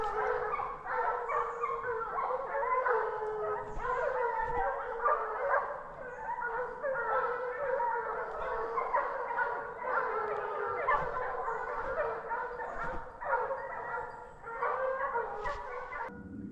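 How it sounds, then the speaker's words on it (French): Pack of hunting dogs baying continuously during a wild boar drive hunt in the woods, a dense overlapping chorus of barks and yelps at moderate distance, sustained throughout without talk. "Je vous laisse apprécier le travail des chiens et la musique."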